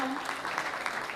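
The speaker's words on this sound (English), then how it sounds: "Give yourselves a round of applause" Attendees at a town business appreciation breakfast give a dense round of applause that sounds full and fairly distant, with steady clapping from a large gathering and a faint voice briefly at the start.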